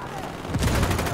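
Gunfire in a tactical shooter video game, a burst of dense shots that comes in suddenly and stays loud and close to the end, with low booming thumps beneath it.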